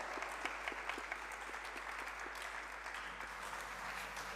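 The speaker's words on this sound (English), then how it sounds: "Let's give Dr. Malhar a big round of applause" Audience at a TEDx event applauding a speaker, a quiet, distant round of steady clapping with some individual claps standing out, no voices over it.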